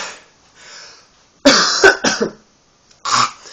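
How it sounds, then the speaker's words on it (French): A few harsh coughs in quick bursts, close and loud, with a brief pause before a final cough. "excusez-moi d'avoir toussé comme un fou"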